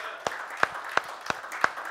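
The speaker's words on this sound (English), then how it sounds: "Give the Lord a hand clap." Church congregation clapping on a Father's Day Sunday service: five distinct, evenly spaced sharp hand claps in a steady rhythm, with faint voices underneath.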